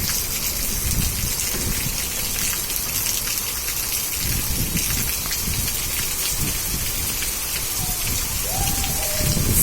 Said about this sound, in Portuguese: Eu vou encarar essa chuva.